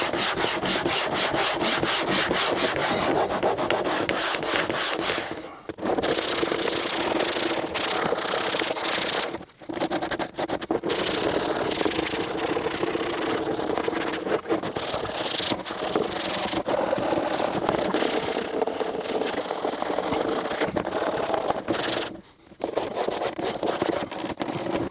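Faux leather covering on Land Rover Defender door cards being rubbed down by hand, a steady continuous abrasive scuffing with brief pauses, close and fairly loud, no talking.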